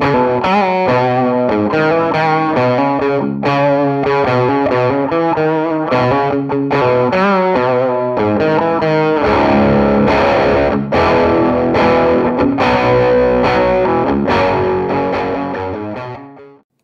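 Heavily distorted electric guitar runs through a cranked old-school Marshall amp emulation plugin in a classic hard rock style, playing continuous loud chords and riffs that ring out and fade at the end, with no talking.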